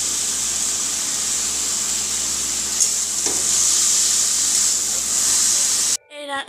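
Banana flower curry stirred in a hot pan, a steady loud sizzle and hiss of frying with occasional scrapes of the spoon, close by, cutting off near the end.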